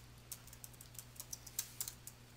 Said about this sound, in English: You can start typing text directly into the text box or paste in copied text.